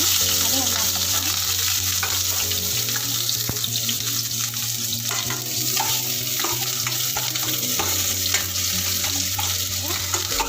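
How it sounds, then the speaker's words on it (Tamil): Chopped onions sautéing in a pan for mushroom gravy after tempering with fennel, a loud continuous sizzle with stirring scrapes and a steady hum beneath, no talking. "ஆனியன் எல்லாத்தையும் போட்டு நல்லா பொன்னிறமாக வரைக்கும் வதக்கணும்."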